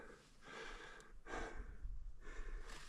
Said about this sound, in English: Sorry about my heavy breathing.